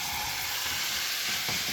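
Food sizzles steadily in a deep dish frying pan with seasoning, a continuous close, moderately loud crackle with a few brief stirring scrapes and no talk.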